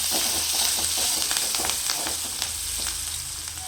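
Curry leaves fry in hot oil in a pan for tomato rice, a steady loud sizzle close by with scraping stir strokes running through it and no talking.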